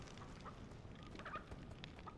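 Chicken clucking in the Minecraft Story Mode Season 2 video game, a short fowl call over a steady wash of game background noise.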